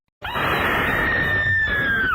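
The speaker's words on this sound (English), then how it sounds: "followed by a blood-curdling scream" A woman's long, piercing horror-show scream, one sustained shrill cry held for about two seconds at full volume, close and alone, ending with a slight downward waver.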